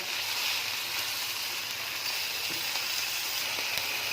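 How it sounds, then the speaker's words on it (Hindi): Coarse minced beef keema frying in a pan, a steady close hiss of sizzling oil that holds evenly throughout with only faint crackles and no talk. "तो अभी इसमें कीमा ऐड करते हैं"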